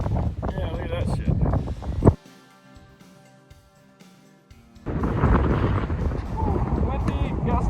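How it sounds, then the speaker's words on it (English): Gusty wind roars across the microphone high on a mountain during an off-road motorcycle trip through New Mexico, Colorado and Utah, loud buffeting for about two seconds, a calmer lull, then strong gusting again to the end. "Windy, gusty up here."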